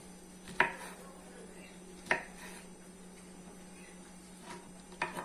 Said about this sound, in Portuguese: A Nath vai cortar a linguiça aqui pra vocês verem.